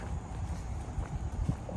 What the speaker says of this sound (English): So this horse and buggy is called the Good Intent Line.